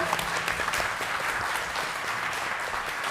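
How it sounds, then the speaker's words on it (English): Applause from an audience at a San Diego Comic-Con graphic novel panel, a dense, steady wash of many hands clapping that runs evenly and close throughout, with no voices breaking through. "A round of applause, everybody, for our amazing panel"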